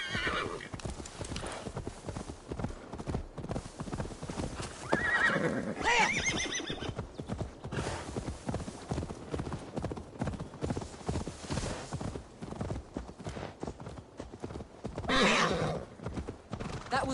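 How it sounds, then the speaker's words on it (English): A horse in Assassin's Creed Valhalla gallops with steady, loud clip-clopping hooves throughout, breaking into neighs and whinnies partway through and again near the end, with no talk over it. "Now to deliver Magni his horse"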